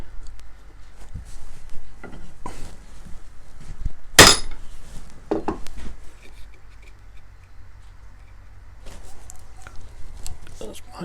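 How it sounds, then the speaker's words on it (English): A chisel is driven by hand into a mortise in wood: one sharp, loud strike and a few softer knocks and taps, spaced irregularly over quiet workshop background, with faint voice murmurs. "Now I've got the mortise deep enough to stand the chisel up in it, so I might have a go at bashing it a bit."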